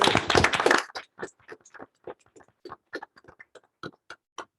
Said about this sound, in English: Round of applause for you, sir.